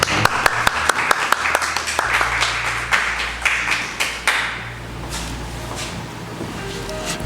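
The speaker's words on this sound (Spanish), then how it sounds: "Un aplauso." A crowd at the Academia Dominicana de la Historia claps steadily at an induction speech, sharp dense handclaps that gradually thin out and fade over several seconds.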